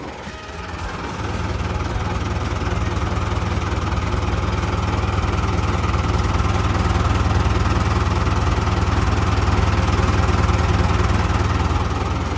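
A Komatsu 510 wheel loader's heavy diesel engine idles steadily with a low, even rumble and vibration, running continuously and close by without any revving.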